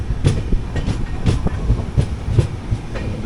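A train passes at a railway station, close and loud, with rhythmic clickety-clack wheel beats over a steady low rumble.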